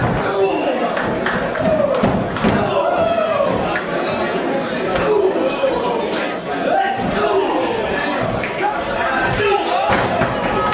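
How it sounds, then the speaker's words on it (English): Strikes land in a pro wrestling match as European forearm uppercuts connect, dull thumps scattered through loud arena crowd noise and chatter, with a commentator talking over the action. "European forearm uppercut scores in the second one."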